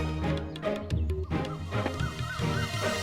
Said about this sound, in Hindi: मुर्गी की ध्वनि सुनी?